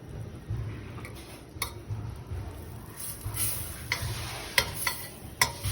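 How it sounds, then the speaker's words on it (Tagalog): Margarine melts and sizzles in a pan for butter prawns, a low bubbling hiss joined by intermittent clinks and scrapes of a utensil against the metal, growing busier toward the end. "I-melt lang natin yung margarine"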